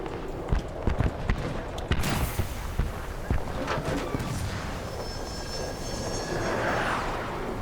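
Jet aircraft in a video game roaring overhead, layered over sharp gunfire and explosion-like bangs early, then a sustained whining engine rush that swells toward the end.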